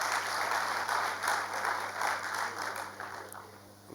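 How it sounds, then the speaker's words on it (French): Audience at a youth entrepreneurship launch event giving a sustained round of applause, moderately distant, swelling and easing before tapering off at the end. "Il a demandé à ce qu'on applaudisse pour tout le monde"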